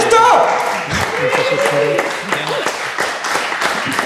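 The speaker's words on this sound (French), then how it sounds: "On applaudit Asto" Audience at a Saturday games session at the PodRennes 2023 event applauding, a dense patter of clapping that carries on steadily, with voices talking and cheering over it.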